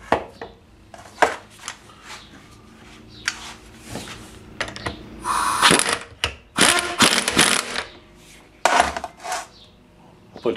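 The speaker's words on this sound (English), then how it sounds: "Now I'm gonna go ahead and tighten it down with the impact wrench." An impact wrench tightens vice grips on a Hyundai rear shock, with bursts of whirring and rattling separated by metallic clanks and handling noises, close and fairly loud.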